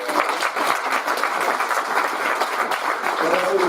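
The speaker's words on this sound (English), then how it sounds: "Big round of applause." A Rotary Club gathering breaks into a big round of applause, steady dense clapping from a room of people filling the whole moment at close, loud level.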